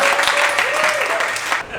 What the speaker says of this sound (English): will you at least clap for your cheerleader Christian getting this room started?